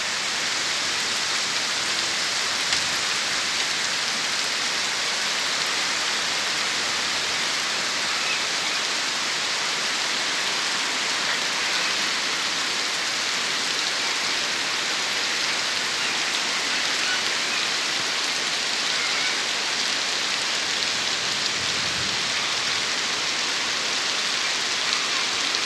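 Heavy rain falls steadily and loudly at a rural smallholding, a dense, unbroken hiss of drops throughout with no pauses.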